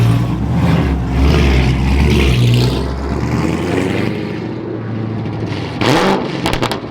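A loud, very wide Corvette C7 sports-car engine revs hard and drones, then fades before a sharp final burst of revving close by.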